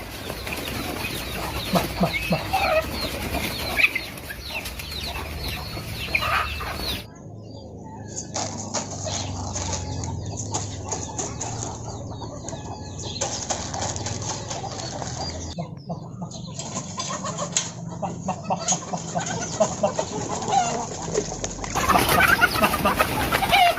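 Native country chickens over five months old at a poultry farm, clucking and calling continuously with bursts of wing flapping, a busy, close flock sound throughout with no talking.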